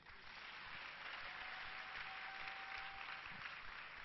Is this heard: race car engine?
no